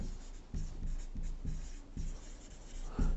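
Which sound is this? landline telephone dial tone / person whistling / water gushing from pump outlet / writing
writing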